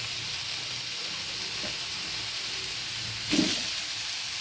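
Pumpkin, eggplant and potato frying in a pan for a spinach dish give a steady, even sizzle with a brief stirring clatter late on, close and without voices.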